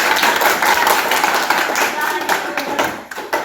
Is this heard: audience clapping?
yes